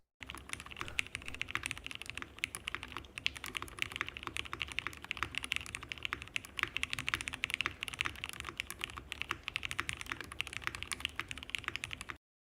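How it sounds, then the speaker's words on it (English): Steady, fast typing on a top-mount mechanical keyboard with Cherry MX Black switches, a dense stream of clacky keystrokes recorded up close, continuous with no talking. "Definitely sounds like a keyboard, definitely sounds like a top mount."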